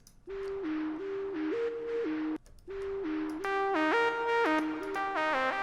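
A buzzy sawtooth-wave synthesizer lead, made in Serum, plays a stepped melody with a brief pause, then returns thicker and brighter with layered harmonics, colored by chorus and echo.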